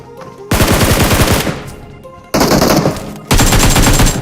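Loud automatic gunfire from the video game PUBG, rapid bursts of shots in several long strings broken by short pauses, close and dominant.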